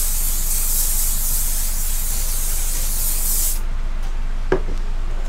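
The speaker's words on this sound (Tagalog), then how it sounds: "Spray mo lang siya sa hair mo." Hair spray from an aerosol can hisses onto a man's hair in one steady, close, loud burst lasting a few seconds, then cuts off into near silence.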